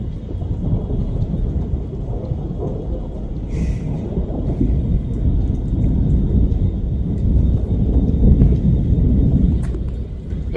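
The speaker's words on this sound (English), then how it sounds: "Those are some pretty good thunder rolls." Deep rolling thunder from a storm over Tokyo, a continuous low rumble that swells and fades over about ten seconds, loud and heavy, with no voices.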